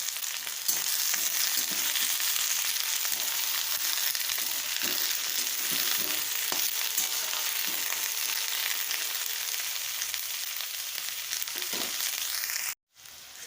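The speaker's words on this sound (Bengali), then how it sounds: "এবার এটা ভালো করে ভেজে নিই।" Vegetables fry steadily in a hot pan with stale-roti recipe ingredients, giving a dense, continuous sizzle and occasional soft stirs, close and fairly loud, before the noise cuts off sharply near the end.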